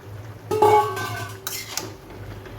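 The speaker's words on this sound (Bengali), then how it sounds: "এবার আমি আমার কচুর লতিগুলো এতে ঢেলে দেব" Taro stolons tipped into a cooking pan where prawns are being cooked, a brief clatter of metal cookware and cutlery near the start followed by softer scraping and faint sizzle, with no talk.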